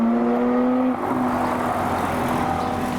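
A car leaving a car show accelerates away at speed, a loud close engine drone that shifts pitch about a second in, then continues as a steady fading whir with no talking.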